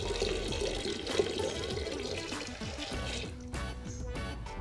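Oleo saccharum poured from a container into about a liter of Scotch, a steady liquid stream and splashing that runs for several seconds before tapering into a quieter trickle, with no talk over it.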